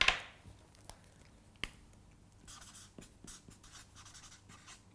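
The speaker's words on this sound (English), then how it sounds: "So let's just write out our" Pen writing out a table for balancing a chemical equation: quiet, close scratching strokes in short bursts on paper, with a couple of sharp taps and no speech.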